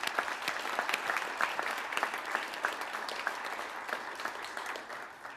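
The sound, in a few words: applause for an individual prize winner at a school prize giving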